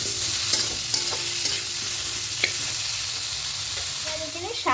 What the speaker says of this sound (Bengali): তা এখানে হলুদটা দিয়ে প্রথমে একটু ভেজে নেব।